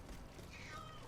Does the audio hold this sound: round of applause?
no